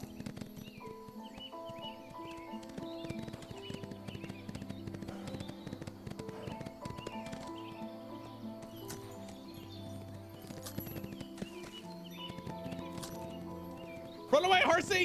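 A horse runs in the Windstorm: Start of a Great Friendship Remastered video game, its quick clip-clop hoofbeats steady and fairly quiet under game music, with a louder burst near the end.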